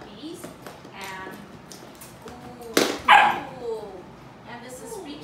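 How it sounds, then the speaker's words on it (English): A litter of seven puppies at a foster home yips, whimpers and barks in short overlapping bursts nearby, with two sharper, louder barks near the middle and a person talking underneath. "This is a litter of 7 puppies."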